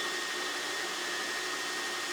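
A Myford MG12 cylindrical grinder runs at full speed, giving a steady, dense motor whine and broadband hiss that holds constant without change.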